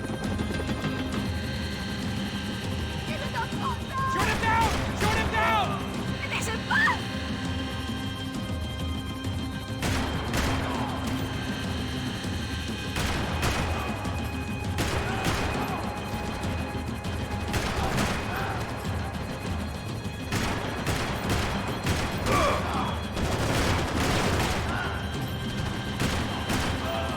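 Sustained gunfire during a Max Payne 3 chase, with repeated sharp shots and bursts spread throughout over a dense, busy background of rumble and impacts, with voices shouting at times.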